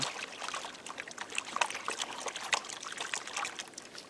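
Water swishes and trickles in a gold pan in steady, splashing pulses, close by, with no voices.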